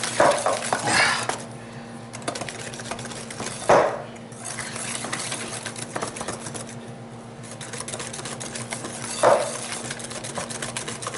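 Cardamom snap cookie dough stirred by hand in a bowl with flour, heard as steady, close scraping and clinking of the spoon against the bowl with a few sharper knocks.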